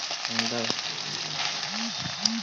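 Ginger paste fries and gets stirred in a pan, a constant close crackling sizzle running throughout while a voice speaks briefly over it.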